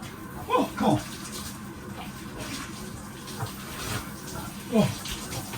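Water runs from a tap in a narrowboat shower, a soft steady wash broken by a few brief splashes and handling knocks, with a voice speaking at moments over it.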